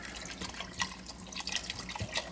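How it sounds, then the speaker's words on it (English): A soft trickle of water splashes into a pot of red spaghetti sauce, quiet and continuous with small drippy accents. "I'm going to add a bit of water."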